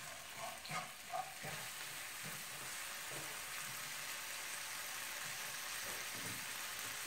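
Ginger being stirred in a hot pan, with a steady broadband sizzle and a few soft scraping stirs near the start, moderately quiet and continuous with no talk.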